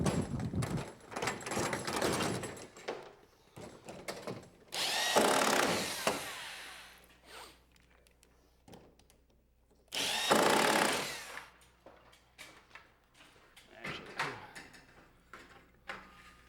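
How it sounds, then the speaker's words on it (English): A power drill drives fasteners into the hinges of a garage door panel in a Vermont farmhouse garage, with three loud whirring bursts of a few seconds each, separated by quieter handling clatter and knocks. "And then you add the second panel and fasten the hinges."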